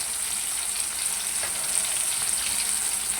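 Zinger chicken pieces fry in hot oil with a dense, continuous hiss and bright sizzle, steady and close with no pauses.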